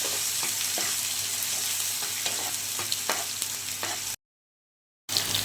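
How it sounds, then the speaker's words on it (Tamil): Onions sautéing in a pan for sambar give a continuous close sizzle with repeated light stirring scrapes, then a brief full silence before the frying sound resumes. "நல்ல வெங்காயம் வதங்கட்டும்."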